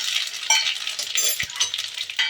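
Cumin seeds and garlic hit hot oil for saag tempering, giving a close, bright crackling sizzle with scattered pops and a brief utensil knock.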